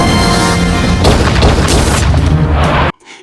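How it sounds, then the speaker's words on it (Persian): Loud gunfire erupts in a movie scene, a heavy, booming barrage that rolls on continuously and then cuts off abruptly near the end. "شلیک‌های گلوله به صدا در می‌آید"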